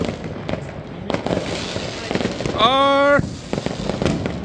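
Diwali firecracker shots under outdoor chatter, with scattered cracks and a sustained whistling, rising multi-tone burst near the middle lasting about half a second.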